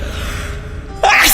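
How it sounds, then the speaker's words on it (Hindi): A single loud, sharp sneeze from a person in a dusty room, bursting out suddenly after a stretch of quiet room tone in a horror story sound effect. "कि उसे बड़ी जोर की छींक आई"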